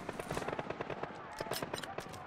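Rapid bursts of small-arms fire from a light handgun in Call of Duty Modern Warfare, a dense run of sharp cracks going off close and loud throughout, with game audio layered behind them.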